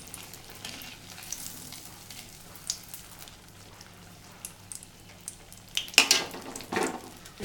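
Appam batter frying in a pan of oil, a soft steady sizzle with faint crackles, rising to a brief louder burst of spitting near the end, no voices.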